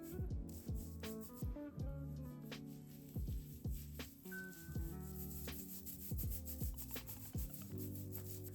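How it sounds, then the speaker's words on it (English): A scalp massager rubs a detox mixture into a wet scalp, giving steady rhythmic scrubbing and squelching strokes, close and soft, repeating without pause. "And then I'm gonna massage it in with my scalp massager."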